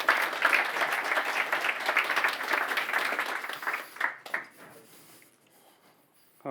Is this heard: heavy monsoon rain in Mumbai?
no